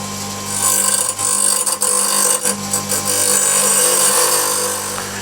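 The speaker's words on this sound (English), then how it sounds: "I might go just roughly on a coarse wheel" A skew chisel is roughly shaped against a coarse grinding wheel, producing a steady motor hum with intermittent gritty grinding bursts as the steel touches the spinning wheel, close and fairly loud.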